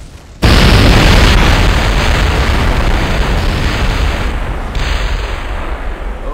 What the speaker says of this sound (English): The explosions from the new parts are still insanely loud.